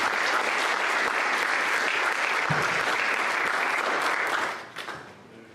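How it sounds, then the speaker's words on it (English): Dense, sustained applause from a church service audience greets a man walking up to the stage, steady and loud for about five seconds before tapering off. "give him a round of applause as he makes his way up here"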